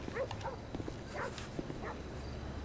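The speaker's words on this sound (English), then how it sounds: "Is that a dog?" A dog barks and yips in Grand Theft Auto 5, a few short, moderately loud yelps over a steady low game background.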